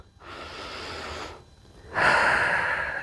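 Calm, controlled breaths during a full-body fascia and mobility workout, a long steady inhale then a louder, airy exhale after a short pause, close and clear with no talking.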